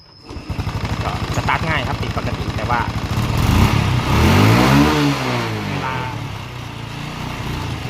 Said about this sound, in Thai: เร่งไม่ขึ้นแล้วครับเร่งจะวอด